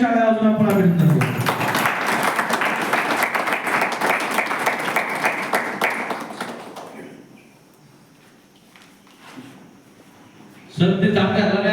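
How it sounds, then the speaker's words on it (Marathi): An audience at a reunion of a 2005–2006 tenth-standard school batch breaks into sustained applause for several seconds, then the clapping dies away to a quiet room before a voice resumes speaking. "त्यांचंही त्या ठिकाणी टाळ्या वाजवून आपण अभिनंदन करू."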